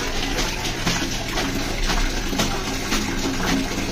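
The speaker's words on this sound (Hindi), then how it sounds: "यहाँ पे देखिए मम्मी कैसा धो रहे कपड़े" Clothes washed by hand with water at home, a continuous loud rush of running and splashing water with scrubbing and sloshing throughout, no speech.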